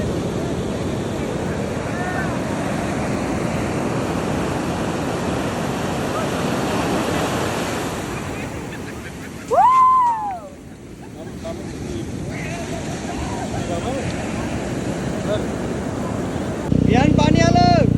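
Waves break on a wide Bay of Bengal beach at Puri, Odisha, in a continuous wash of surf with strong wind buffeting the microphone and a brief tonal chirp partway through.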